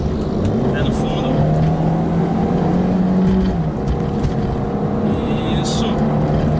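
A Volkswagen New Beetle 2.0 eight-valve accelerating hard on automatic-gearbox kickdown, heard from inside as a steady loud engine drone rising in pitch with road roar, while people talk.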